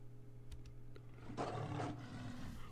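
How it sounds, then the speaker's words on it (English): A lion gives a single short, rough roar about halfway through, rising from a quiet background and ending abruptly. "With a roar, Leo pounces onto the fry with his mouth, quicker than a heartbeat."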